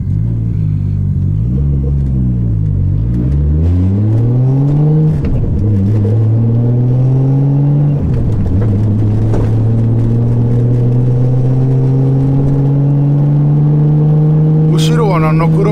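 R33 Skyline engine while driving on a farm road, a loud rumbling drone that rises and falls through gear changes and revs, with a man chatting over it.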